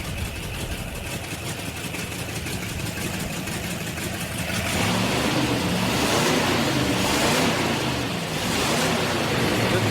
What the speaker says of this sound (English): I think it's a misfire.